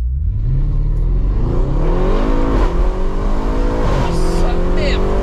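A 710 hp, 1000 Nm car launches and accelerates hard, its loud, close engine climbing through rising revs with brief dips at gear changes, while people talk over the roar.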